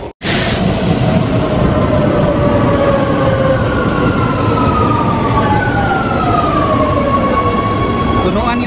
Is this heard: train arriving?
yes